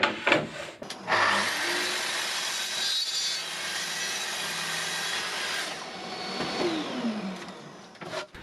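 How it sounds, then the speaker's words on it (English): A saw rasps steadily through a wooden cutting board to cut it to length, backed by a taped walnut offcut. The cut is loud and close, runs continuously for about seven seconds and stops sharply at the end. "tidying up both faces of the board and then moving on to cutting to length"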